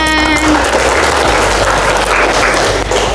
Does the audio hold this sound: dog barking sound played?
no